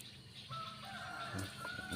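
A chicken clucking somewhere on a farm, a few short faint calls over steady background noise, with no one talking.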